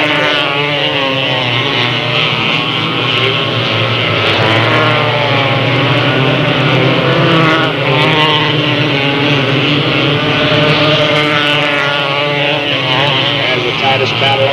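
Race cars battling for position on the Delta Speedway track, a continuous loud roar of engines across the whole stretch, under steady commentary from an announcer.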